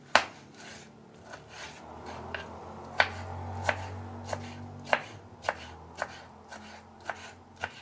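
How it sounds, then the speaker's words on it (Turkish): Knife chopping red peppers on a board for an olive breakfast salad, a run of sharp, close taps at an uneven, unhurried pace with a low steady hum underneath. "Kırmızı biberlerimi de doğrayacağım."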